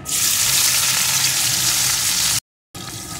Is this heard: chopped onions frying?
yes